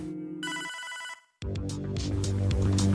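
A telephone rings in Hotline Miami 2, a synthetic electronic trill that cuts off after about a second, followed by a brief silence and then loud droning game music.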